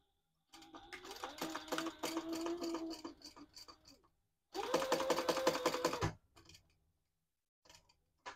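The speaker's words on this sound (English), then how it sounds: "Now I am going to stitch this down both long edges." A sewing machine runs in two bursts, stitching down both long edges of fabric for a retro sling bag, a rapid close rattling whir with a brief pause between runs and a few faint clicks after.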